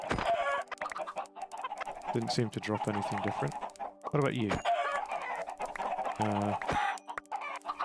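Chickens in the video game Minecraft cluck repeatedly in short rhythmic bursts, with occasional louder calls, close and steady throughout while a person talks over them.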